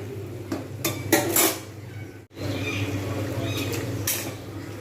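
A spoon stirs spinach ghonto with batasha in a pot, giving repeated clanks and scraping knocks against the metal over a constant low background hum, with a brief drop in sound midway.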